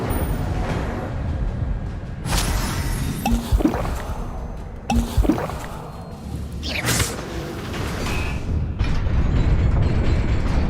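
Incendio fire spell cast in Hogwarts Legacy, with several whooshing bursts and booming flares rising over a rumbling game background, each blast swelling and fading in turn.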